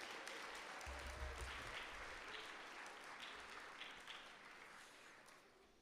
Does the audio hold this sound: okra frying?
no